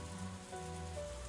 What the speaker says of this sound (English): I listened to the soothing sounds of raindrops hitting the scrap iron in the trash heaps